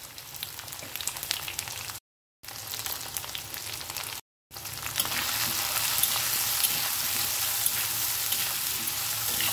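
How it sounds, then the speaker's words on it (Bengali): Potatoes frying in a pan for a red lentil dish, a continuous close sizzle that swells louder after two brief dropouts, with no one speaking. "ভালো করে আমি আলুটাকে ভেজে নেব।"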